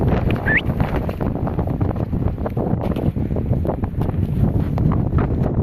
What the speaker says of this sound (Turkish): Kulübesinde çok rüzgar geliyor yani.